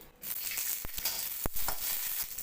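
Green chillies dropped into hot oil in a kadai give a steady, moderate sizzle with a couple of sharp clicks of a spoon against the pan.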